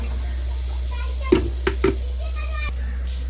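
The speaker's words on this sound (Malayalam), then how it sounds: "എന്നിട്ടൊന്ന് നന്നായിട്ട് മിക്സ് ചെയ്തെടുക്കാം." A spoon stirs chili powder into a chili pickle mixture in a pan, giving three soft knocks and scrapes against the pan over a steady low hum.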